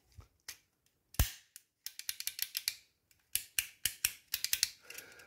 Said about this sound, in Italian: Pulsantino nuovo, lo inseriamo finché sentiamo il click